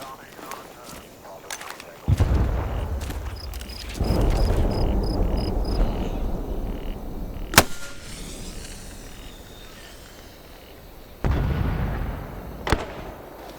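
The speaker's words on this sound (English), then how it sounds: "Equip your flare gun and aim towards the marker." A flare gun fires in the Vietnam War video game Hell Let Loose: Vietnam, a sharp pop rising over a steady rumble of game ambience, with a second fainter crack later and bursts of low noise around it.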